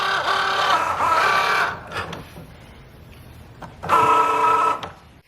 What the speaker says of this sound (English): Now that my label has actually been cut